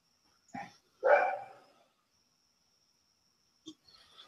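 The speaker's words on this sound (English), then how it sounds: "Uh-oh. Cujo's barking." A dog gives two quick barks a short distance away, then falls quiet for about two seconds before one more short bark and some faint noise follow.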